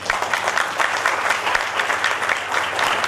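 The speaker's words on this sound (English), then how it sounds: "can we have a round of applause for our students?" Steady applause from an audience at a college foundation day event, dense clapping that fills the whole stretch at an even, loud level without letting up.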